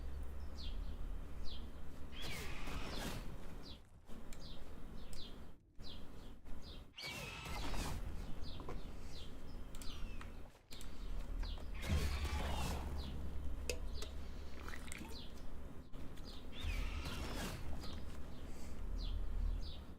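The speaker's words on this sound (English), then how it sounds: "It literally says birds chirping." Repeated short, high chirps from birds in the video game Last Epoch, scattered steadily through the background at moderate volume, mixed with game effects and occasional clicks.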